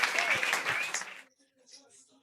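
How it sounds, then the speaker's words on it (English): Festival crowd at a live stage show in Goa claps and cheers over a voice for about a second, then the applause cuts off abruptly into near silence with faint scattered sounds. "Big round of applause."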